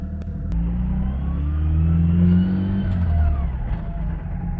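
A turbocharged 4AGE-engined Mazda 323 with a locked differential revs steadily and rumbles up and down, close by, while doing donuts, with no voices over it.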